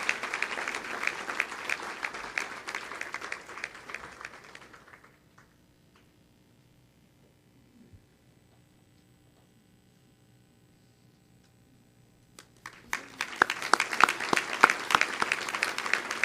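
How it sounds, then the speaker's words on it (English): Audience applause at an ATHENA awards ceremony, a full burst of clapping that fades into near silence with a faint tick, then swells back into loud, sustained clapping. "let's have one more round of applause for all our extraordinary Athena finalists"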